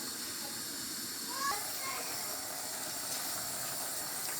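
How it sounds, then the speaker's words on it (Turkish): Water at a full boil under a lid in a pot on the stove while cooking chicken orzo pilaf, a steady close hiss of steam and bubbling, with faint clinks over the constant noise. "Suyumuz iyice kaynadı."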